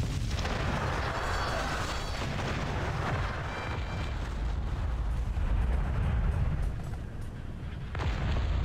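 Battleship cannons pound away in a Cossacks naval battle, a continuous rumbling barrage of heavy booms and blasts that fill the clip at steady loudness, with no clear speech.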